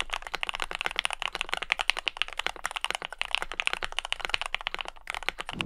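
Rapid, steady typing on a modded budget $50 Amazon mechanical keyboard, a dense run of close, crisp keystroke clacks with no pauses or talking.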